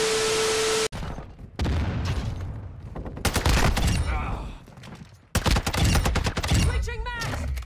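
TAQ V rifle gunfire in Modern Warfare 2, loud rapid bursts of shots in several volleys with game explosions and radio voice callouts layered between.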